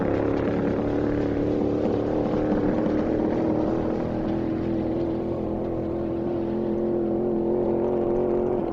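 A loud 434 cubic inch V8 in a 1990 vintage Ford Mustang fuel altered drag car at Speedweek 2023 drones steadily and close for the whole stretch, a thick rumbling roar that holds near full volume throughout.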